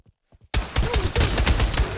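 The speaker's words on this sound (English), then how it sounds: "I hear gunfire." Heavy, rapid gunfire from the game Pavlov bursts in after a few faint taps, loud, dense volleys of shots continuing without pause.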